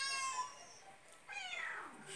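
Kittens meowing, two drawn-out high mews with a brief pause between them, fairly close and clear.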